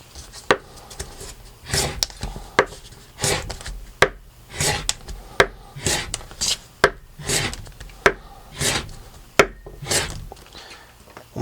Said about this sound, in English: First thing we'll do is cut a little piece of cardboard here